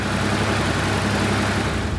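A Ford Ranger engine with a suspected head gasket leak idles steadily after a radiator flush, giving a loud, continuous low rumble with a broad mechanical hiss and no voices.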